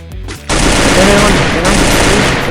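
Loud, rapid automatic gunfire from a SCAR rifle in Free Fire blasts continuously for about two seconds after a short burst of game sound.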